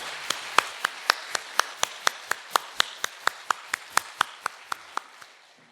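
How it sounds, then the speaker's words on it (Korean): A church congregation claps together for the choir at a Reformation 502nd anniversary service, about twenty sharp claps in a steady, even rhythm that fades slightly at the end, with no talking. "우리 찬양대를 위해서 격려의 박수 한번 보내겠습니다."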